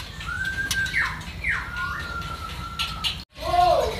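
Murai batu magpie robins and other caged songbirds in a mall bird shop give clear whistled chirps and sliding calls, several overlapping at moderate distance, with a voice briefly audible near the end.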